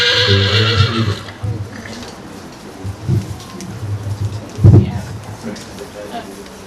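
Arabian horses from foundation strains at a royal stud in Jordan, one neighing loudly and nearby in a long whinny, followed by softer snorts and stamping.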